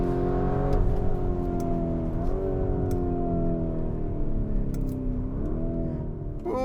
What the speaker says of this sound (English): But this V8 turbo, it sounds pretty good.